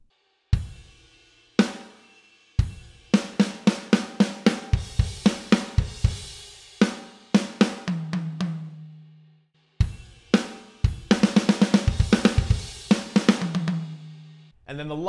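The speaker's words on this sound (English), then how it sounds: "as the song is fading out, there's another fill that sounds kind of like this." A drum fill from the fade-out of a song is played alone on the kit, with crisp snare and cymbal hits, quick rolling runs down the toms and a few pauses between bursts.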